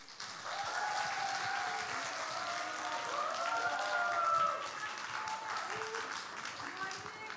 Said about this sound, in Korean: 자 큰 박수로 함께 맞이하겠습니다.